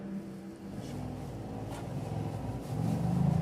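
A 272 hp all-wheel-drive car with a six-speed manual gearbox accelerates, its engine a steady mid-pitched drone that swells louder toward the end, heard from a moderate distance with no talking.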